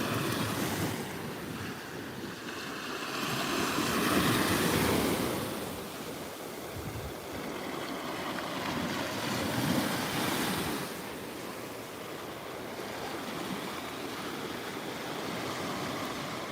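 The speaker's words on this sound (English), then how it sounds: "I've got my toes in the surf." Ocean surf rolling onto a Florida Gulf Coast beach as a hurricane approaches, a steady broadband wash of breaking waves with swelling surges around the middle and again later, heavy wind buffeting the microphone throughout, no voices.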